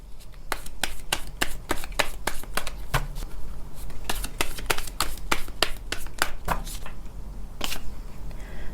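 Oracle cards shuffled by hand during a tarot-style reading: a run of crisp, close riffling and slapping bursts, roughly a dozen sharp clicks repeating at an uneven rhythm over a soft steady background, with no talk.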